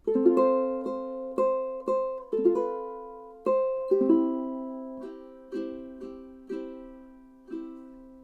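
Fingerstyle ukulele plays measures 21–22 of a song: plucked chords and single notes in a steady, unhurried rhythm, each note ringing and decaying. The instrument is close and clear, and nobody speaks.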